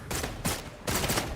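Gunfire in the video game Wuthering Waves, rapid bursts of shots in three close, loud clusters separated by brief gaps.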